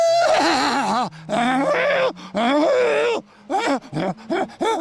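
A voice imitates a mare's whinny with long wavering groans and then short choppy bursts, loud and close, with a low steady hum underneath.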